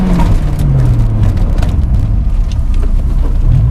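A Honda S2000 (JDM) accelerates briefly and then brakes hard, its engine drone steady and loud up close, with a falling tone as it slows and no talking over it.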